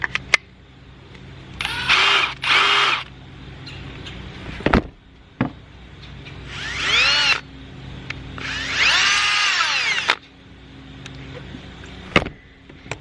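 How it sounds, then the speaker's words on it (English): A new cordless power drill from a drill kit with an impact driver runs in several bursts, rising and falling in pitch between spins, close by and fairly loud in a workshop, with clicks and quiet gaps between runs. "We got a power drill with a big battery, 2 things of bits, a small battery, and an impact driver."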